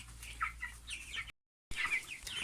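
Broiler chickens cluck softly in short scattered bursts as they gather to drink, fairly faint and close, with a brief silent gap midway.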